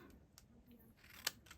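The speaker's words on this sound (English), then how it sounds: "And I get my scissors." Scissors handled during card crafting, heard as a few faint, brief clicks and snips in a quiet room, with one sharper snip near the end.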